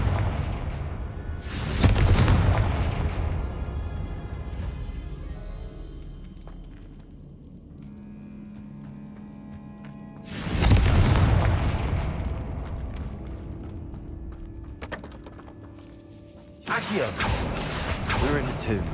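Confringo fire spell explosions inside a tomb in the Hogwarts Legacy video game: three loud booming blasts spaced several seconds apart, each with a short rumbling decay, between quieter eerie ambient tones.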